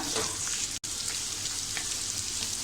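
Chopped boiled potato pieces sauté in a pan for sabudana khichdi, a steady close crackling sizzle with a momentary cut near the start.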